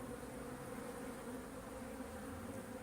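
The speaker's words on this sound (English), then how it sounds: "we'll shake those bees in and we'll leave this open now" Honey bees at an open hive, a steady dense buzzing drone close by that holds evenly throughout with no talking.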